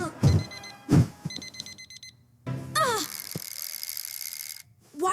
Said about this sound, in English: Why didn't the alarm wake me up?